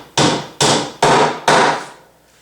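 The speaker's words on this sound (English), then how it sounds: "So I'm putting these nails about 3/4 inch apart or so, a little bit closer together than elsewhere." Four sharp hammer blows drive nails into the wooden soundboard of a harp, evenly spaced about half a second apart, each strike close and ringing briefly before fading.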